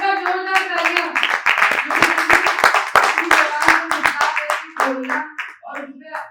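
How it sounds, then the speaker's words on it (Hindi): Audience at a theatre festival performance bursting into sustained, dense clapping and cheering for about six seconds, close and loud, with a few voices calling out amid the applause. "एक बार जोरदार तालियां।"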